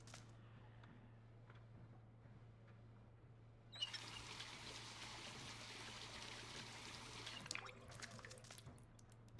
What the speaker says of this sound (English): I want to refill my water bottle as well